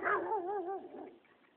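A dog lets out a short, whiny yelp that wavers in pitch, close by and fairly quiet, then trails off.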